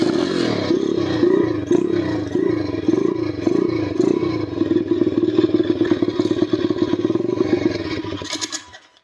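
A dirt bike engine being repaired after a crash starts and revs in repeated throttle pulses, then settles into a sustained loud rev before cutting off at the end.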